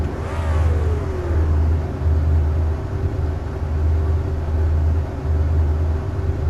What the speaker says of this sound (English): I hear him revving him up on the line